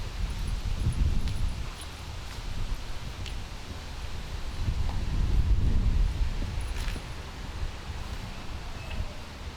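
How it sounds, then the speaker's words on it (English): Steady outdoor wind buffets the microphone during a swearing-in ceremony, a low continuous rumble that swells in broad gusts around the middle, with faint rustling on top. "That wind is consistent."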